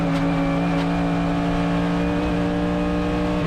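A Mercedes-AMG GT3 race car heard onboard at NOLA Motorsports Park, its engine holding a loud, steady high-revving drone in 4th gear, with no talk.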